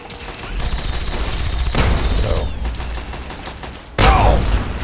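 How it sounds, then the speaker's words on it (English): In Fallout 3, a grenade explodes close by with a loud, abrupt blast and rumbling crash after a stretch of dense gunfire and combat noise, then a second sharp boom hits near the end. "That grenade hit way closer than it needed to."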